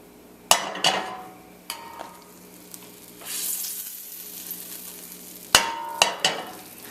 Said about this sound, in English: I'm gonna go in with some olive oil and a little bit of butter. Just move that around a bit.